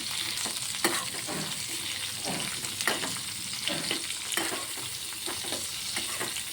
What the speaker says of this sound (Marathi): टमॅटो ते सर्व असं छान परतवून घ्यायचं आहे